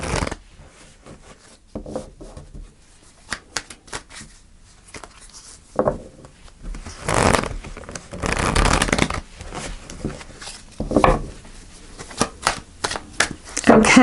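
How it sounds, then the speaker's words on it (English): A deck of tarot cards is shuffled by hand in bursts of soft riffling and sliding, close and fairly quiet, with brief pauses between the shuffles. "I'm going to do a couple more shuffles."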